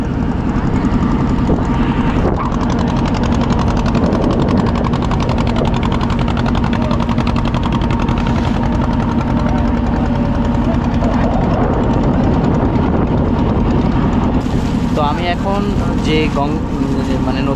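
A motor trawler's engine drones loud and steady while crossing a river toward Kachuberia ghat on the Gangasagar Mela route, with wind rush and faint voices throughout.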